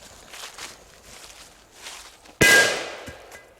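A cheap Explosive 3 firecracker bursts under a small pot with one sharp, loud bang and a short ringing decay, after faint footsteps and rustling outdoors.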